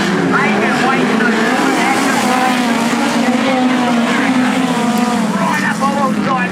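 Midget speedway race cars roar around the dirt oval at Archerfield Speedway in a heat, engines droning loud and continuous with a commentator talking over the din.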